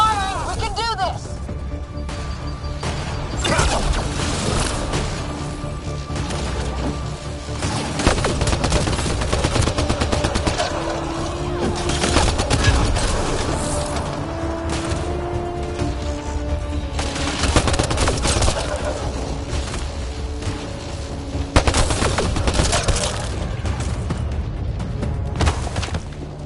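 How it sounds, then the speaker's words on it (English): Sustained gunfire in the video game Mass Effect Andromeda, with loud rapid bursts and heavy shots layered over a battle din, while characters shout and talk over the shooting. "Just keep firing, we can do this!"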